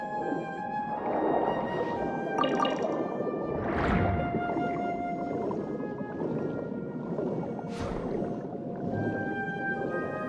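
An echoing conch in Genshin Impact gives off watery, whale-like calls with long resonant swells and drips, repeating over several seconds without talk.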